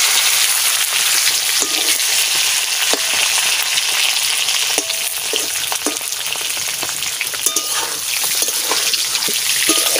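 Pointed gourd pieces fry with bay leaves in a pan of hot oil, giving a loud, continuous close-up sizzle with occasional pops and faint stirring clinks throughout.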